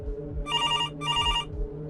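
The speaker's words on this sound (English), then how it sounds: "The sound of that phone ringing had become sickening" A telephone bell rings twice in two short, loud bursts separated by a brief pause, over a low background hum.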